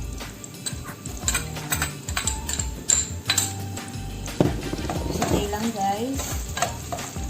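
Chopped onion sautéing in a hot pan with garlic, crackling sizzle close up as a utensil scrapes and stirs, with metal clinks against the pan and a brief spoken word.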